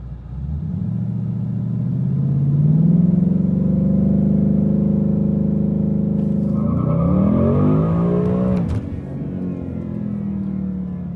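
Ford Coyote V8 revving against the foot brake in a stall test after a 10R80 transmission and torque converter install, a loud close rumble climbing and holding steady, then sweeping down and back up again near the end.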